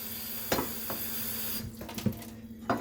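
Water pours from a pot with a small spout lip, a steady splashing stream into a sink broken by a few brief clunks and spatters, close by with no talking.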